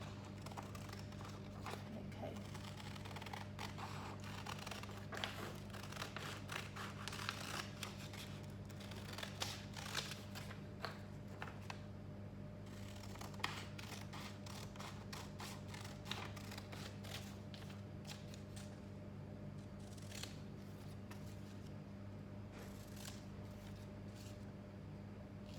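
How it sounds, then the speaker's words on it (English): Scissors cut out a paper stencil for a DIY stocking, making repeated faint snipping clicks in an uneven rhythm over a steady low background hum, close by and without talk. "So I'm going to cut my stencil out first of all"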